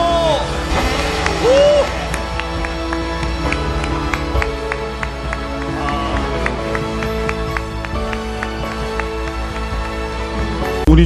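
Church congregation in Manila clapping and cheering right after a New Year countdown, sustained applause and whoops filling the space with music playing underneath and a brief shout.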